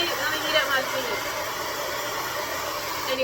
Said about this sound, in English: when you get cold, use your hair dryer.